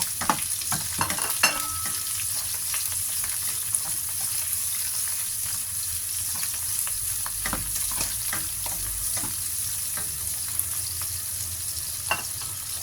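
Mussels being stir-fried in a pan: a constant bright sizzle with repeated scraping strokes and clatter from the utensil against the pan, close and without talk.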